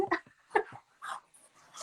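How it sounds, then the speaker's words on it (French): A dog whimpers and yips at home in a few short, high-pitched bursts separated by brief pauses, fairly faint and close by. "j'ai mon chien, il fait un peu des siennes"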